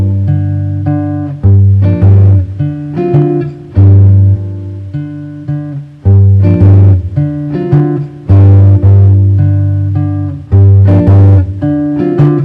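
Two measures of a jazz-style fingerstyle guitar walking bass line, steady quarter-note bass notes with chord stabs above, played close and clear with no voices, the phrase repeating over several bars.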